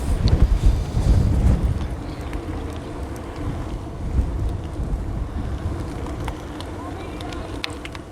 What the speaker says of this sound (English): going into the wind, you can kind of feel it